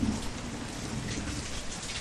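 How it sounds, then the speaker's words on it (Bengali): Steady rain falling through a grey day, a continuous dense hiss of drops on surfaces with a low rumbling undertone, even and unbroken throughout. "আজ সারাদিন ধরে এক নাগারে বৃষ্টি পড়ছে।"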